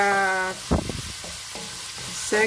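Chicken filling for pastilla cooks in a pan, a soft continuous sizzle with a few scraping stirs, interrupted at the start and end by a faint tonal hum, no speech.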